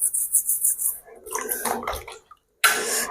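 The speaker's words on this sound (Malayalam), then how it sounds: "അങ്ങനെ എല്ലാം ഇങ്ങോട്ട് കഴുകാം. ഇങ്ങനെ ബ്രഷ് ചെയ്ത് എടുക്കാം." Vegetables scrubbed with a brush and rinsed in water: splashing and bristly rubbing bursts, a brief pause of near silence, then a renewed rush of running water, close by.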